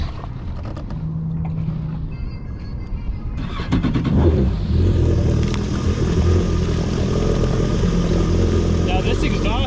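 A 2021 Yamaha FX Cruiser HO jet ski with a RIVA Stage 1 upgrade and exhaust routed out through the hull idles roughly, then its engine surges louder midway and holds a steady, throaty drone, with people talking.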